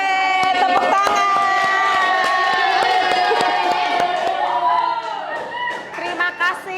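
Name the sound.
class applauding a student group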